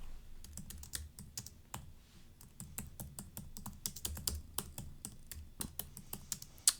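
Computer keyboard typing text into a sales funnel tool, with steady clicky keystrokes in quick irregular runs and brief pauses, close and fairly quiet, no voices.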